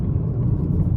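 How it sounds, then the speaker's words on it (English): Low, steady road rumble inside a 2024 Lincoln Corsair Premiere II on 20-inch wheels over a rough road, a constant muffled drone with no talking. "Even with these big 20-inch wheels here, road noise is minimal, and this road here is pretty rough"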